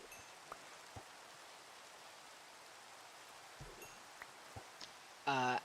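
Rain in the Cuboid Outpost video game falls as a soft, steady hiss of faint patter, with a few scattered light clicks and a brief louder burst near the end.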